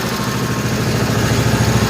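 A 1955 Cushman Truckster engine idles steadily after a cold start, a close, even low chugging with a quick regular pulse and no voices.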